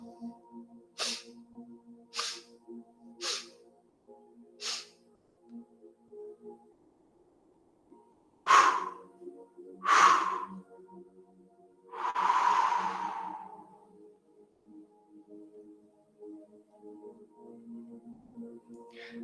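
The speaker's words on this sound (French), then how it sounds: "Double inspire 2 fois." Breathing from a qi gong exercise, a series of short sharp nasal sniffs followed by several louder, longer inhalations and a drawn-out exhale, close and alone in a quiet room.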